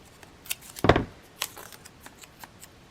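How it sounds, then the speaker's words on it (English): Scissors snip through a strip of masking tape during junk journal crafting, one sharp close cut with a few faint clicks and rustles before and after in a quiet room. "I'm going to cut a little bit of that masking tape off."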